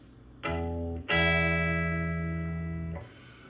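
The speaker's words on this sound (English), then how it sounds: "where we did the open bottom string, open top string, and it sounded like this" An electric guitar in standard tuning strums its open strings twice in quick succession, the second strum ringing out and slowly fading, with no voices.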